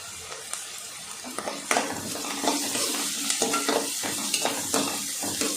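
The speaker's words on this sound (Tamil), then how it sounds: "இதெல்லாம் நல்லா ஒன்றா எல்லாம் ஃபுல்லாக நல்லா வதங்கட்டும்" Ginger and garlic sautéing in a pan for a chicken dish, a soft sizzle under scattered clinks and scrapes of a utensil against the pan, close and fairly quiet.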